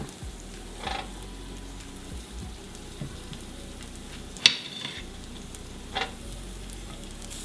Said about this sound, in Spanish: Ya que está caliente, vamos a poner a asar la cebolla.